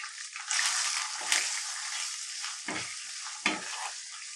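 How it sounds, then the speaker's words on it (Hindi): Steady sizzling of onions frying in a hot pan over medium flame, with a few louder stirring scrapes breaking through the crackle. "अब प्याज को मीडियम फ्लेम पे थोड़ी देर के लिए भुनने देंगे"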